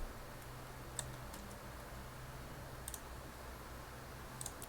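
Computer keyboard typing while entering unit prices in MS Project, soft scattered clicks and small clusters of keystrokes heard faintly over a steady background hum.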